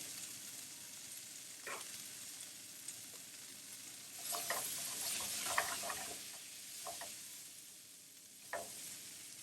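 Vegetables sizzling in a frying pan, a steady soft crackle with scattered pops and the occasional stir or turn of the pieces, heard close and fairly quiet with no talking.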